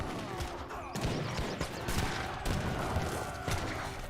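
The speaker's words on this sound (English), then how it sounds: "More cannons explode on out." Cannons fire and explode in a battle in the Age of Empires 3 strategy game, with repeated sharp booms and crackling volleys over a busy background of combat noise.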